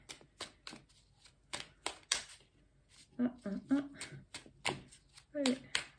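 Tarot cards are shuffled and laid out in a quick series of crisp riffling and slapping card sounds, close by, while someone speaks in French between and over them.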